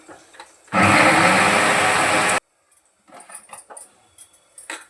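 A mixer grinder grinding soaked sago with a little water whirs loudly for under two seconds in one harsh burst, then stops abruptly, leaving light clattering and rustling.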